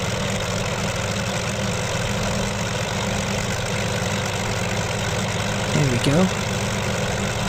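Simulated P-40B Tomahawk fighter engine in Microsoft Flight Simulator 2020 idling down after throttle is eased off, a steady low drone running throughout with a brief voice near the end.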